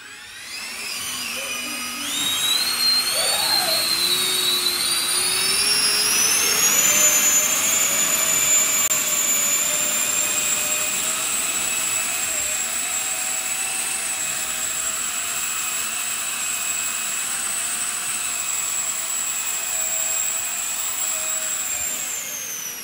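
A 3D printed VTOL trainer's electric ducted fan spins up from a low whine to a loud, steady high-pitched jet-like roar, then holds for about twenty seconds.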